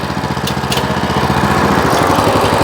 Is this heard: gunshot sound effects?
no